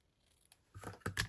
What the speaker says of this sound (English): I'll take my ribbon scissors to trim that.